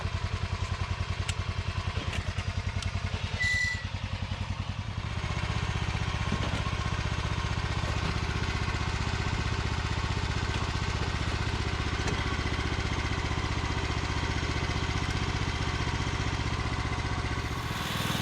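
A BCS two-wheel walk-behind tractor pulls away in low gear across an old Bermuda grass pasture, its engine a loud, steady, close drone that holds the whole time without talk.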